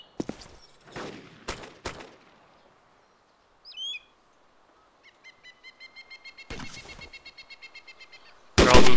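Sporadic gunshots in a video game battle, a few sharp separate cracks early, then a quick rhythmic string of shots and a loud final burst, with birdlike chirps in the quiet gaps.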